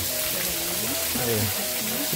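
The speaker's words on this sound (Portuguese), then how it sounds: "chegamos aqui ó. Nessa gigante cachoeira" Steady, broad rushing roar of a giant waterfall near a campsite, constant and enveloping, with voices talking over it.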